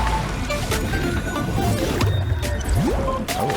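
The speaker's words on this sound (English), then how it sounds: "Ooh, water." Splashing, trickling water in a Honkai: Star Rail character trailer, a steady wet wash mixed with music and effects, fairly loud throughout.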